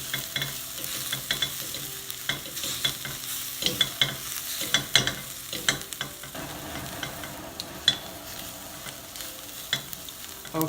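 Onions frying in a pan with cumin seeds, cloves, cardamom and garam masala for a keto lamb curry, a steady close sizzle broken by repeated scraping and stirring clatters throughout.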